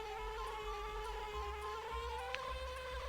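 A bee transformation in the Banjo-Kazooie video game flies with a steady, high, droning buzz that runs unbroken and close throughout, with no talk over it.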